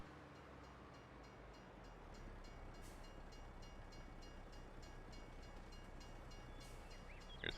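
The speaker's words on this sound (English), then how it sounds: "here's the train whipping through." A train rushes past in the farming game Farming Simulator 22 on a Bavarian Forest map, a steady broadband rumble with faint rhythmic clicking of wheels, fairly quiet and continuous, with no talking.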